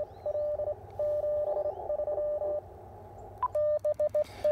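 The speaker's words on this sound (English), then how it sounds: "You could hear his signal fade up and down. That's called QSB, which is fading, basically." Ham radio Morse signal on a single steady tone, keyed in quick dots and dashes over a low hiss, its strength swelling and sagging with fading, then a short gap before the keying resumes louder.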